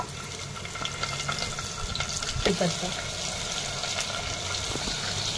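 Peanuts and onion fry in hot oil with mustard seeds and cumin for a tempering while cooking a quick pulav, giving a steady, close hiss and sizzle with a few brief clatters.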